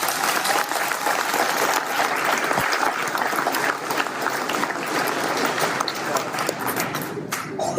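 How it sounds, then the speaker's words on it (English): An awards ceremony audience applauds continuously, a dense, steady clapping crowd from a moderate distance that carries on to the end. "Can we give them another round of applause?"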